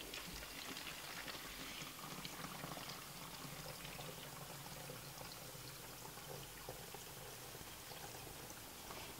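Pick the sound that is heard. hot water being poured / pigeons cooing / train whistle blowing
hot water being poured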